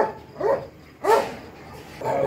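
A dog barks three times in short, separated bursts, moderately close and fairly loud, with a quiet background between the barks.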